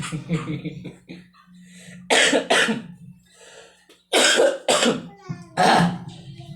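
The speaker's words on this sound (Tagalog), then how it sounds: "Talagang matindi na yung ubo ko" A person's harsh, severe coughing comes in several loud bursts separated by pauses, close to the microphone, with a brief vocal sound between fits.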